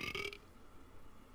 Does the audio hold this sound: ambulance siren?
no